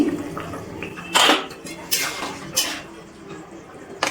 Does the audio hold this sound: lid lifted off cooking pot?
yes